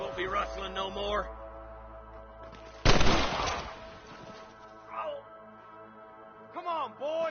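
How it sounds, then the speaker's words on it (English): Gunfire in the Red Dead Redemption video game, a sharp burst of shots in the middle of the clip, with game music and voices before and after. "I can hear more gunshots."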